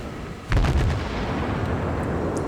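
Naval battleship gunfire in a video game: a single loud, deep artillery boom about half a second in, followed by a long rumbling decay.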